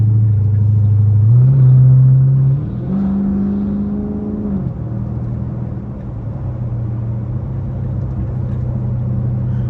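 A Dodge Charger SRT8 engine hums steadily from inside the car on a freeway, its low drone shifting pitch a couple of times as it shifts gears, with no talking.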